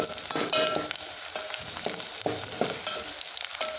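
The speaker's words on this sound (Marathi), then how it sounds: "हे पा आपला कांदा भाजत आहे" Onion frying in a pan: dense, close sizzling with a high hiss and rhythmic stirring scrapes every half second or so, no speech.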